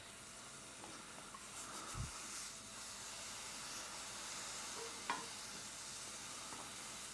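Mushrooms and tomatoes fry in a pan for a simple tofu scramble, a steady close sizzle and hiss with a couple of brief utensil knocks and stirs.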